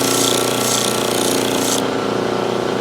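A power grinder runs loud and continuous while flattening small resin cast parts, a harsh rattling whine whose upper hiss drops away near the end as the tool eases off the workpiece.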